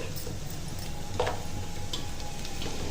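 Garlic and roasted gram dal frying in oil in a pan until light brown: a steady, moderate sizzle runs throughout, with a faint clink of a utensil midway and no voices.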